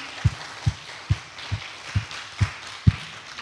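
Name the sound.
church congregation applause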